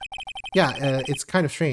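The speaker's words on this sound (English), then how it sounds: "I heard a phone ring just now, one of those new-fangled ringtones." Cell phone ringtone in the Phoenix Wright: Ace Attorney video game, a rapid series of six short electronic rings, then a voice talks over the end.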